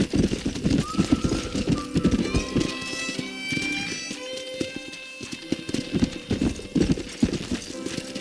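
Horse hooves clip-clop in a steady rhythm as a rider travels on horseback in the Western video game Red Dead Redemption, close and clear over a musical score, with a voice briefly heard.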